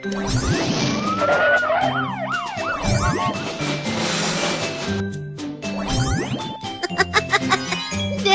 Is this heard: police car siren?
yes